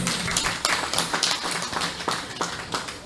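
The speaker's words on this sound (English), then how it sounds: "Give yourselves a round of applause." An audience at a community meeting in Woodland, Oropouche West, Trinidad and Tobago applauds steadily for about three seconds, a dense, close wash of many hands clapping at once, with no talk over it.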